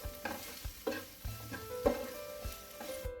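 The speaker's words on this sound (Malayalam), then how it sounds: "ഇനി 2 എരിവുള്ള പച്ചമുളകും 2 ചെറിയ സവാള നീളത്തിൽ അരിഞ്ഞതും ആവശ്യത്തിന് ഉപ്പും കൂടി ചേർത്തിട്ട് നന്നായിട്ടൊന്ന് വഴറ്റി കൊടുക്കണം" Green chillies, sliced onions and salt are sautéed in a pan for a Kerala-style beef fry, with a spatula scraping in an uneven rhythm over a light sizzle, close and without talk.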